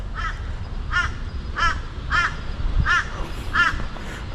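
A crow in Australia caws six times in a steady, evenly spaced series, each call harsh and fairly close, over a low outdoor rumble.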